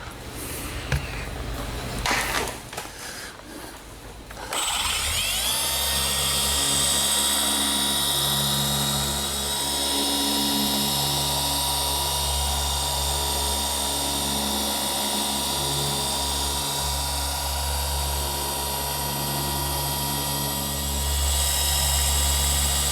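A rotary polisher with a pad runs on the Techno Violet paint of a BMW E36 M3, starting after a few seconds of rustling and then holding a steady, loud droning whine close by.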